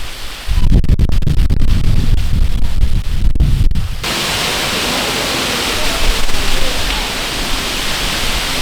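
A sudden rainstorm with strong wind sweeps in beside a resort pool on Phu Quoc, Vietnam, a loud broadband roar of wind and pouring rain that holds steady for several seconds after a burst of gusty buffeting at the start.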